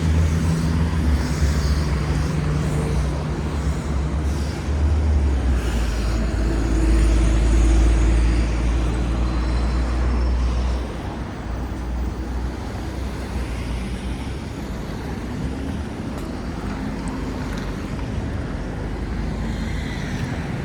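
Interior of city bus number 79 heading to the airport in Almaty: a steady, loud low engine rumble and road noise throughout, easing slightly partway through, with no talk.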